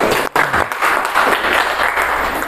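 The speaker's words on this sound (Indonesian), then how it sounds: "Baik, aplaus sekali lagi." A classroom of students gives a round of applause, dense and steady clapping filling the room for the whole stretch with only a brief dip near the start.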